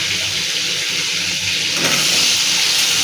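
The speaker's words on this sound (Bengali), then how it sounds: "আলুটা একটু ভেজে নিলে ভালো লাগবে।" Potatoes fry in a hot pan in oil left from frying shrimp with bay leaf and cumin, a steady, hissing sizzle that grows slightly louder and more spattering midway through.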